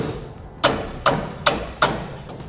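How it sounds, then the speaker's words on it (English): A hammer taps a carriage bolt through a hole while a Curt Double Lock flip-and-store gooseneck hitch is installed on a 2015 Ford F-250, giving four sharp metallic knocks spaced about half a second apart, close and clear. "just take a hammer and give it a little tap"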